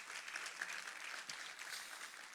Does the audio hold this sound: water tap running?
no